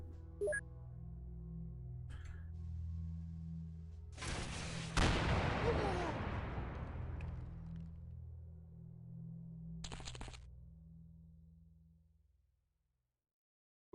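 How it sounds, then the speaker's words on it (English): A rocket fired in X-Com Files: after a low steady hum, a sudden loud launch and roaring blast dominates, then a long decaying rumble, with a later short burst before everything fades out. "I know where I'm firing my last rocket out"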